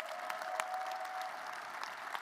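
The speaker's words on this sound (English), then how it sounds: "Let's give him a round of applause." Steady round of applause from a crowd at a press conference introducing Buzz Williams as Maryland men's basketball head coach, moderately distant with a few sharper claps standing out.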